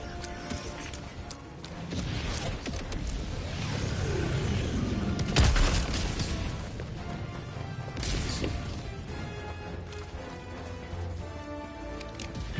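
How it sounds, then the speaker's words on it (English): Enemy artillery fire in Helldivers 2: heavy crashing impacts and rolling gunfire blend into a dense, loud battle din, with one sharp nearby blast standing out midway. "Warning, you are in range of enemy artillery."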